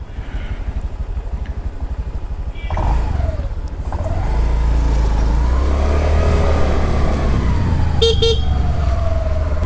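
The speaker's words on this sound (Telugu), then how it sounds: "నేనైతే ఎంజాయ్ చేస్తున్నాను బైక్ నడుపుకుంటూ" A 2020 Honda Activa 6G BS6 scooter rides through traffic, its engine hum steady and close, growing louder as it pulls away, with surrounding vehicles and a brief horn blast near the end.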